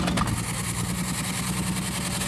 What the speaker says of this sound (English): You can stop the car now, Parker.